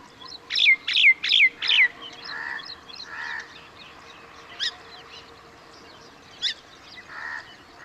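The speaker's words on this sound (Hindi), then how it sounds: "तो ये सामान्य तोता यानी रोज़ रिंग पैराकीट की आवाज़ है" A rose-ringed parakeet gives four quick, loud, shrill screeching calls in a row, followed by softer chatter and two more sharp notes, with other birds faint in the background.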